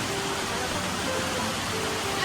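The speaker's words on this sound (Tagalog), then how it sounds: "Ang lakas ng ulan sa labas." Heavy rain falls outside, a steady, dense broadband hiss that holds at an even loudness for the whole stretch with no breaks.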